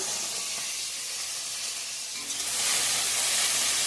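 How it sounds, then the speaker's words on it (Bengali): Fish heads frying in a pan give a continuous sizzle and spatter that suddenly grows louder and brighter partway through, with faint stirring underneath. "এদিকে মাথাগুলো ভাজি ভাজা করে নেবো এখন"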